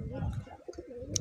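Pigeons of Madrasi and Malwai breeds coo softly at close range in a loft, with low throaty calls repeating over a short stretch and a brief higher chirp near the end.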